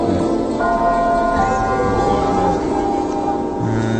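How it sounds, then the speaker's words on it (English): Church bells ringing at three o'clock, a steady sustained peal of overlapping tones carrying on continuously beneath the ambient noise of an outdoor archery competition. "Just hitting on 3 o'clock here if you can hear the bells going in the background."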